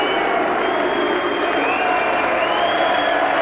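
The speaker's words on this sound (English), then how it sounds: "Why they're booing Lewis, heaven alone knows." A dense, loud boxing-arena crowd boos Lennox Lewis after his fight with Ossie Ocasio, a steady roar of jeers and shouts that never lets up.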